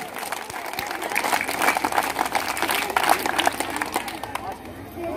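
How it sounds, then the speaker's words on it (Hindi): Clapping from a seated crowd at a Hindi-speaking public gathering, a dense burst of many hands with some murmur underneath, holding steady before thinning toward the end. "ताली बजा"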